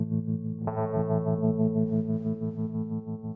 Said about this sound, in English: we put a little bit of pre-delay, long decay. You can start to get that kind of nice dreamy kind of thing.